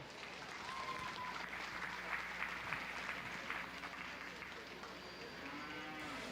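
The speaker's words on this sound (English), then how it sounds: "Let's give them a round of applause." Audience applause at a youth cattle show in Gillespie County, steady dense clapping throughout with a faint cattle moo in the background.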